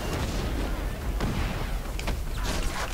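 A Bio Bomb detonates in the video game Prototype 2, a dense, loud rumbling blast with crackling bursts and booming impacts layered throughout, continuous and chaotic.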